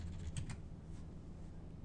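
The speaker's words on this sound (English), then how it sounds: "What if I keep typing?" A few soft keystrokes on a computer keyboard near the start, then quiet low room hum with no talking.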